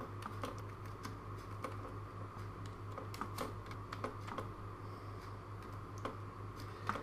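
Rapid, irregular keystrokes on a computer keyboard while logging in, fairly faint and close, over a constant low electrical hum.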